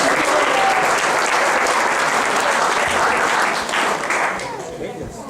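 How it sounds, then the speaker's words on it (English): An audience applauds a drama team after a devotional play about Srila Yamunacharya, with dense sustained clapping that fades toward the end. "A big round of applause for the team."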